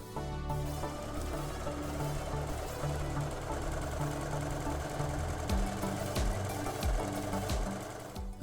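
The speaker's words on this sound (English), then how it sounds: "now that I have just stitched in the ditch really quickly" A sewing machine runs in one long steady burst, stitching in the ditch along the seams of a scrappy Thanksgiving table runner, its motor humming with a fast, even mechanical rhythm close up.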